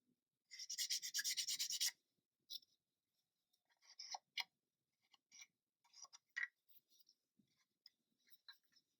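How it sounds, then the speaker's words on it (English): Close rapid sanding of a 1/35 scale model tank part, rubbing and rasping for over a second, then scattered short scraping strokes and light taps, quiet and intermittent. "You reduce down your sanding quicker going in the opposite direction every time you change grip."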